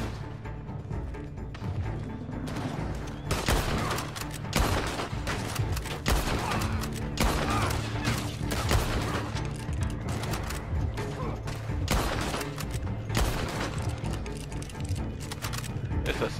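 Heavy gunfire from enemy players in Red Dead Online in a Strawberry shootout, dense overlapping shots and bursts rolling continuously from several directions, loud and sustained with a constant game soundscape beneath.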